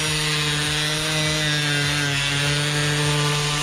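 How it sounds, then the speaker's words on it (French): A power tool buzzes loudly and steadily as it cuts through the bumper of a BMW E36, close and continuous, with a strong motor hum and a faint repeating chatter underneath. "je fais la découpe de pare-choc"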